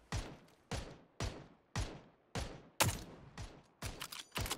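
Gunfire in PUBG, about nine evenly spaced, close shots, each a sharp crack with a short decaying tail, the last few coming a little faster, with no talk over them.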